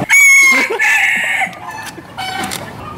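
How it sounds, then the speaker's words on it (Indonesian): A rooster crows loudly and close, a long strained call followed by clucking and further calls from chickens, with voices faintly in the background. "Ayam, guys."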